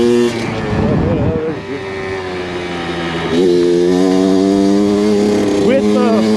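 Kawasaki KX100 dirt bike engine revving hard in the hills, a loud buzzing two-stroke whine rising and falling in pitch over several throttle blips, with someone talking over it.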